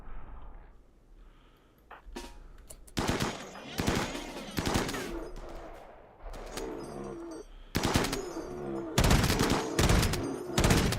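Gunfire in the colony game RimWorld: loud, close bursts of automatic fire and clustered shots arriving in irregular volleys, separated by brief quieter gaps, with no voices.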